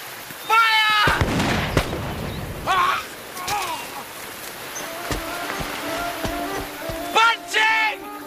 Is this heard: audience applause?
no